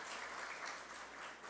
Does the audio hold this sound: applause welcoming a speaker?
yes